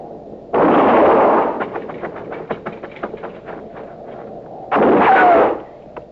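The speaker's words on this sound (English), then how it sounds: "I'm going to fire and roll away, maybe draw a shot." Gunfire in a 1950s Western radio drama: two heavy, booming shots about four seconds apart, each swelling into a long rolling blast, with a rattle of smaller cracks between them.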